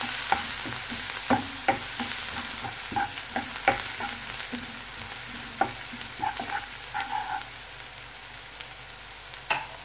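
Garlic and green chillies stir-fried in a pan make a continuous sizzle. Repeated scraping clicks from stirring come at an irregular pace, close and clear, with no voices.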